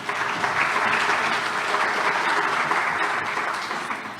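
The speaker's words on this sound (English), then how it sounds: "Can we give a round of applause?" An audience at a faculty day session applauds the incoming chairperson, with a steady, even wash of clapping from a crowd that tapers off slightly at the end.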